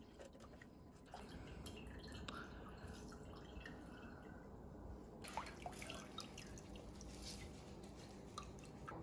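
Water being squeezed by hand out of grated mooli radish, dripping and trickling steadily in close, faint wet squishes and splashes with a few sharper drips.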